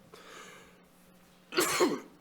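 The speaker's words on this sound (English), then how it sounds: "you can see I'm coughing" A close, loud cough bursts out near the end during a county planning commission meeting, a short harsh throat-clearing cough after a quiet stretch of room tone.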